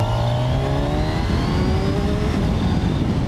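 Kawasaki Ninja 1000 SX sport-touring motorcycle engine pulls hard under acceleration, its rising whine climbing steadily in pitch as the bike gathers speed through a gear, loud and close with steady wind rush beneath.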